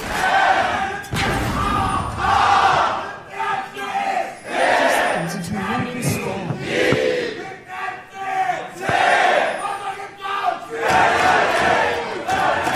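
A loud arena crowd at a 2016 EU LCS Spring Playoffs semifinal between G2 Esports and Fnatic roars and chants in surging waves, with rhythmic clapping and thumping beats underneath the swelling cheers.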